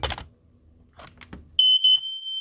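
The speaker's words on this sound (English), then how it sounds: "And now we're going to do the smoke alarms." A smoke alarm, interlinked with others in the house, lets out a loud, piercing electronic tone that starts abruptly and holds steady, briefly stuttering, after some quiet handling noises.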